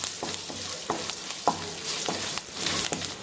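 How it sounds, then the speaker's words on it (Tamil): Garlic, dried red chilies and asafoetida sizzle in hot oil for an Andhra-style gongura pachadi tempering, a steady close frying hiss broken by several sharp stirring scrapes, with no voices. "இதெல்லாம் வந்து ஸ்லைட்டாக நம்ம எண்ணெயில் வந்து வதக்கிக்கலாம்"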